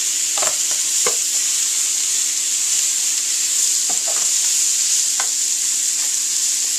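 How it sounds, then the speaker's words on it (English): Mushrooms sizzling in the same hot pan used earlier to cook a steak, a steady loud frying hiss running throughout with a few soft scrapes of stirring scattered across it, no voices. "We got that same hot pan we cooked that steak in. And come back. Cook these mushrooms."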